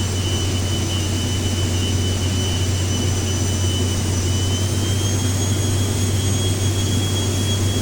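Steady, loud jet engine roar from a Cirrus SF-50 Vision single-engine personal jet in the X-Plane flight simulator, a constant whine with deep low rumble holding unbroken throughout, no talk over it.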